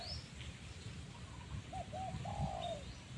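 Spotted dove cooing at a Thai bird-trapping spot, a few soft, low hooting coos in a short phrase at middle distance, with faint chirps from other birds over a steady outdoor background.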